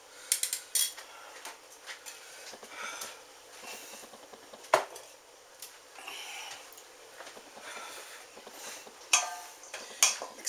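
A spoon clinks and scrapes against a bowl while mixing a garlic Parmesan crouton mixture with olive oil, in irregular scrapes and taps, fairly quiet and close.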